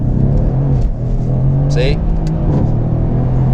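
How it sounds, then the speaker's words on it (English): A Mercedes AMG C63s accelerates hard from second gear, its engine giving a loud, steady low drone with a brief higher whine partway through, while someone speaks briefly over it. "So we're gonna do a pull from second gear here."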